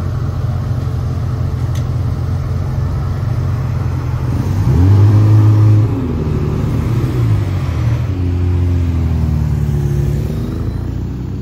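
A Lamborghini Huracan engine resonates through a Paris street, a loud, close, sustained rumble that swells into a revving rise and then settles back to a steady drone.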